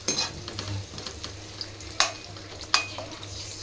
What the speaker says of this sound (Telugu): ఆనియన్స్ మంచిగా బ్రౌనిష్గా ఫ్రై చేసుకోవాలి